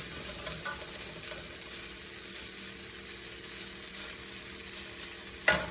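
Flipped homemade hash browns fry in a pan with a steady, dense sizzle and crackle held close up, ending in a sharp clink near the end.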